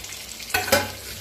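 Chillies fry with masala in a pan and get stirred over a gentle sizzle. Two quick scraping strokes sound close up in a brief moment, with no voice.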